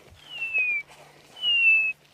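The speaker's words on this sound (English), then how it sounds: "That's the grey hornbill. He's the one making that lovely whistling sound." Two clear, descending whistled notes from a grey hornbill, each under a second long, separated by a short pause in a quiet outdoor setting at sunset in Sabi Sand, South Africa.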